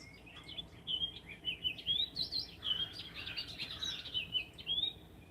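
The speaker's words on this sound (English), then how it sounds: "Did you hear that bird, Kathy?" A bird chirps and sings in quick high tweeting phrases, faint and somewhat distant, with a busy run of notes in the middle over a quiet background hum.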